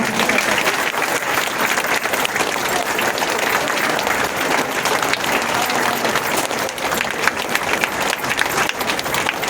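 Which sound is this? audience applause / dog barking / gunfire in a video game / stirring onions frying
audience applause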